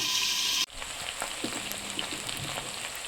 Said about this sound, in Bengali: ভালো করে ঢাকা দিয়ে ভেজে নেব